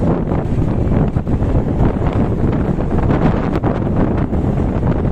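Steady, loud wind buffeting the microphone outdoors in Bani–Bolinao, Pangasinan, Philippines, a dense continuous rumble with gusty roughness and no voices.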